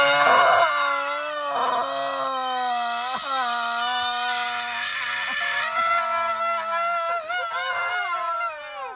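Two voices of a creature wail and scream together at clashing pitches, sustained tonal howls that bend and waver, loud and close for several seconds.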